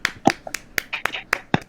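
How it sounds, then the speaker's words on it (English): A small audience gives scattered applause for a guest, a quick burst of sharp, uneven hand claps from a few people close by. "can we get a round of applause, everybody, for Timothy Coleman?"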